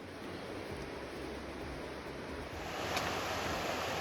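A creek flowing beside a wooded hiking trail on the Appalachian Trail near Low Gap, a steady broadband rush of water that swells slightly louder toward the end, with no voices.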